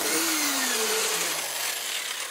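A large impact wrench spins the clutch nut off a Royal Alloy GT150 scooter, giving a loud continuous whirring grind with a pitch that slides downward as it winds off.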